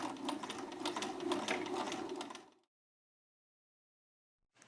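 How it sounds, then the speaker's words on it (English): A sewing machine top-stitches around a fabric bag, running steadily with a fast mechanical whir for a couple of seconds, then stops, leaving silence before a faint click at the end. "Remove the deck from the sewing machine and top stitch all the way around."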